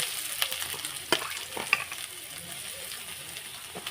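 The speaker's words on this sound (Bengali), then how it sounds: "একটু ভেজে নেব পেঁয়াজ কুচনোটা দিয়ে" Chopped onion and ginger fry in hot oil for potato momo filling, a steady close sizzle broken by a few sharp clicks and scrapes of stirring, with no talking.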